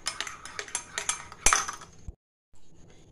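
A metal spoon stirs Girnar instant coffee in a cup, giving a run of quick, close clinks and scrapes against the sides. A sharper knock follows, then a brief silence and a faint rustle.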